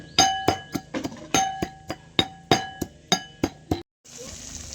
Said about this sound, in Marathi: खलबत्त्यामध्ये लसूण आणि कोथिंबीर टाकली बारीक करायला कुटून घेते आता